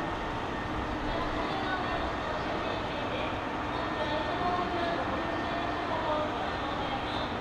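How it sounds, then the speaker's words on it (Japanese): A JR West train departing platform 7 at Himeji Station, heard as a steady rumbling rail and station background noise at moderate level, without clear individual events. "7番乗り場、阿保市行き発車です。"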